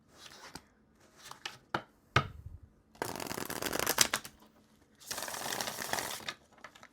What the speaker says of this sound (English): Let me give this one more shuffle, actually.